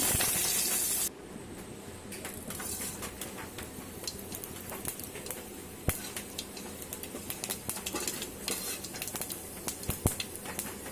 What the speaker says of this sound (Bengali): এবার আমি ওর মধ্যে ফোড়নের জন্য তেজপাতা, শুকনো লঙ্কা আর 5 ফোড়ন ইউজ করব।